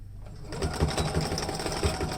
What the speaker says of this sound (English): And you want to backstitch at the beginning